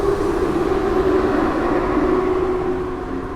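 A TLK train pulls into Warszawa Wschodnia station with a steady, loud rolling rumble and a sustained humming drone that fades slightly toward the end, with no voices.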